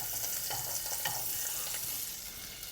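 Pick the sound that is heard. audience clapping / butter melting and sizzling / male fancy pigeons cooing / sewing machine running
butter melting and sizzling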